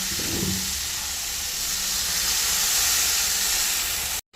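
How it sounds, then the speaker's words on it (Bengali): Water poured into hot oil and spice paste sizzles in a loud, steady steam hiss for a pabda fish curry, with a brief low splash at the start before the sound cuts out near the end. "এখন আমি এর মধ্যে একটু জল দিয়ে দেবো"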